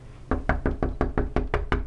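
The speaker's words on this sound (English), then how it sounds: "Not that she can hear the door knocking" Knocking on a door, a steady series of about ten evenly spaced, close and fairly loud knocks with no talking.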